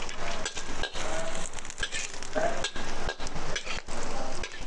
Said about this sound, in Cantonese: 炸一炸啲薑